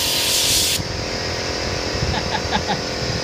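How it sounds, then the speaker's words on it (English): An air compressor runs while Rust-Oleum rubberized undercoating is sprayed onto a 16-foot flatbed trailer's deck boards: a loud, steady spray hiss for the first moment, then a continuous motor drone underneath. "There goes the compressor."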